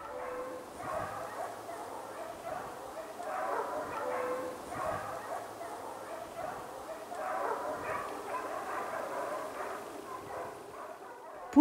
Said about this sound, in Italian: Il rumore delle voci dei cani sembra però disturbare anche altri abitanti del bosco